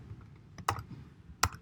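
Two sharp key clicks, about a second apart, over a quiet low hum.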